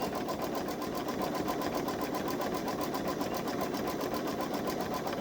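Babylock Solaris Vision sewing machine stitching a buttonhole, a steady, rapid mechanical whir that runs close and unbroken for the whole stretch with no talking.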